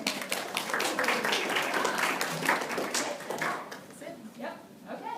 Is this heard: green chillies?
no